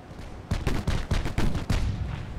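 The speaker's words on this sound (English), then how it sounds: "My ships are firing with pretty much all the turrets now." Warship turrets in Ultimate Admiral: Dreadnoughts fire in a rapid irregular series of heavy booming blasts, about six loud reports in quick succession, each with a rolling tail.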